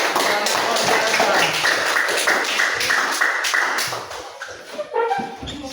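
A classroom audience claps steadily after a group presentation, then the sound thins out toward the end. A voice speaks over the tail of the applause.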